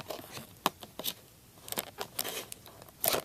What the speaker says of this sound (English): And yes, I am using safety scissors.